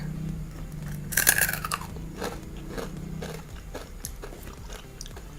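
A crunchy baked okra snack is bitten close to the mic, giving a sharp crisp snap followed by several softer crunches as it is chewed. Nobody speaks.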